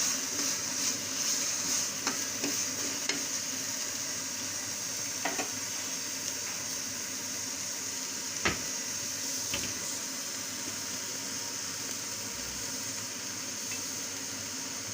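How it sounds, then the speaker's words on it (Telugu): Chicken curry fries in a pan as coriander and curry leaves are stirred in, with a long steady sizzle and occasional scraping clinks of the spoon; no voices. "వేగిన తర్వాత ఇప్పుడు క కొత్తిమీర కరివేపాకు వేసి కలపాలి"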